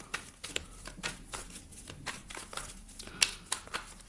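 Tarot cards being shuffled and drawn from the deck, giving a run of quick, close papery riffles and soft slaps at an irregular pace, with no talking.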